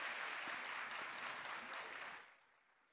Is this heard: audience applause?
yes